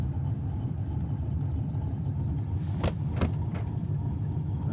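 A car's engine rumbles steadily throughout while driving in DayZ, with a short series of light ticking chirps and a few sharp knocks or bumps partway through, all fairly loud and with no talking.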